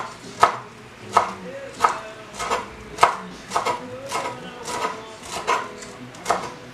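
A knife slices through tightly rolled basil leaves on a cutting board, about ten crisp, evenly spaced cuts in a steady rhythm, close and clear with no talking.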